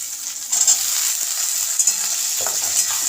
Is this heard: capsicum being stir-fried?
yes